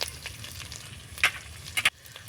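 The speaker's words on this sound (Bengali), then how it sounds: "কাঁচা লঙ্কার আদাটা হালকা করে ভেজে নেব কাঁচা গন্ধ চলে যাওয়া অবধি" Chopped green chilli and ginger fry lightly in a pan with a soft steady sizzle, broken by a few sharp spatula scrapes and clicks against the metal, close up and without talking.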